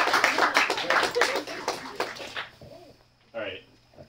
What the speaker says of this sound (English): please give Judd a big round of applause